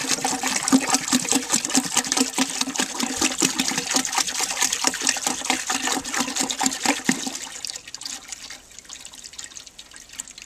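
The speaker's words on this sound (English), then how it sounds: "So this is 2 gallons of water that I poured in." Water poured by the gallon into a toilet tank splashes and gurgles steadily for about seven seconds, then tapers into faint trickling and dripping as the pour ends; no voices.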